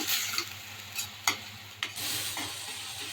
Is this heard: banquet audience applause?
no